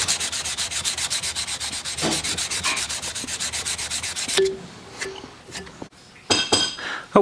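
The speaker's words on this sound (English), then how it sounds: "we touch a gun part to a buffing wheel around here, and just really give it a high polish" A gun part pressed against a spinning buffing wheel for a high polish on metal: a loud, steady abrasive whir for about four seconds, then quieter clinks and handling noises once the part comes off the wheel.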